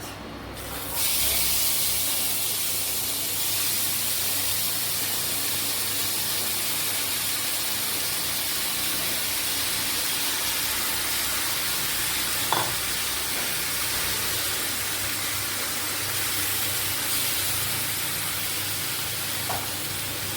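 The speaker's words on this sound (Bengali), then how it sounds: "মাছটা আমার ম্যারিনেশন হয়ে গেছে, এবার আমি কড়াইতে বসিয়ে দেব।" Marinated fish sizzles in a hot wok, a loud, steady frying hiss that starts abruptly and carries on evenly, with a couple of faint clicks and no voices.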